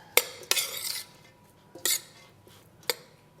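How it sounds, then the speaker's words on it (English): A spoon stirs a cup of brown basmati rice into a dolmades filling, giving a few sharp clinks and scrapes against the bowl with quiet gaps between them. "a cup of brown basmati rice. And just mix it."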